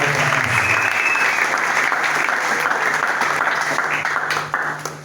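A church congregation at a Sunday wedding service claps loudly and steadily in sustained applause that fills the room, with faint voices beneath it before it eases slightly at the end.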